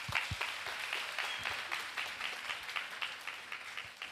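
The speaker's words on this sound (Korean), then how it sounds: "우리 힘찬 박수로 우리 목사님 모시도록 하겠습니다." A church congregation claps for their pastor in dense, steady applause that carries evenly through the room at moderate loudness, with no voices over it.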